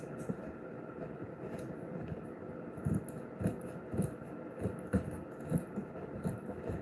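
Scissors trimming projector screen material, heard as a series of soft, irregular snips over a steady low room hum, fairly close and moderately quiet, with no talking.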